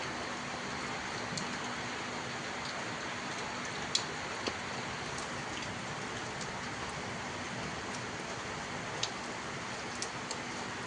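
Heavy monsoon-style rain pours steadily outdoors as a continuous dense hiss, with scattered drips and ticks from drops striking nearby surfaces.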